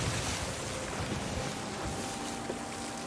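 Waves break and wash steadily against a wooden ship's hull in a pirate video game, a continuous broad surge of water with wind noise running throughout and no voices.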